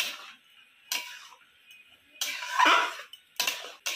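Semolina being stirred into dissolved milk powder in a pan, heard as sparse, close clinks and scrapes of a utensil against metal in short bursts, quiet between them, with no talk.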